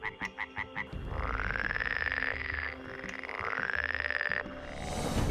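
A dense chorus of many frogs in the Amazon forest, opening with a few sharp rhythmic croaks, then swelling into long layered trilling calls that rise and fall over one another, close and loud.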